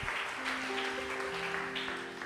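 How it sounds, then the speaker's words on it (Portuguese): Church congregation applauding during a sermon, a steady wash of clapping with sustained organ or keyboard tones held beneath it. "Quem pode aplaudir o Senhor?"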